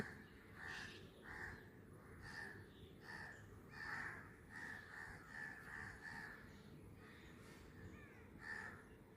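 Crows call in a fairly quiet outdoor setting, giving repeated harsh caws in a loose rhythm, often two birds alternating, each burst standing out clearly over a low background hiss.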